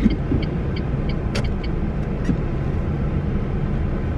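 A car's engine and road noise hum as a steady, loud drone from inside the cabin, with a few faint beeps and clicks on top.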